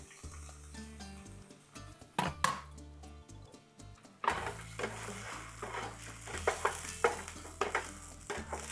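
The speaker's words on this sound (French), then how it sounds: "On fait revenir dans la même poêle." Fresh ginger going into a hot pan, a sizzle under the clatter of a utensil stirring and scraping, with background music playing throughout.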